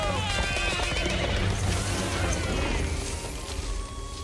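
Horses neigh and whinny in an animated movie, loud and continuous over a dense musical score, with possible hoof clatter underneath.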